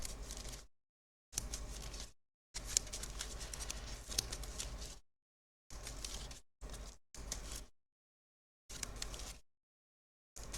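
A deck of game cards is shuffled in short bursts of papery riffling and patter, several separated by silent gaps, close and fairly quiet with no talking.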